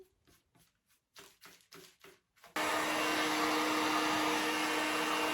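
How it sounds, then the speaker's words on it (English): A heat gun starts up partway through and blows with a loud, steady roar, drying a second coat of paint on a Dollar Tree craft makeover, after a few soft taps and handling sounds. "I'm using my heat gun to make short work of the drying time."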